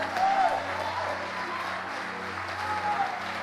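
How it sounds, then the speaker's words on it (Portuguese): Church congregation applauding together, steady dense clapping with crowd murmur filling the space throughout, moderately loud and sustained. "Você pode aplaudir o Senhor, querido?"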